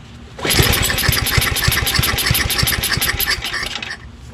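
A Tecumseh 5HP engine on a 24-inch two-stage Simplicity snowblower, freshly fitted with a new carburetor, cranks and catches on choke at full throttle, then runs with a loud, rapid, steady chugging for several seconds.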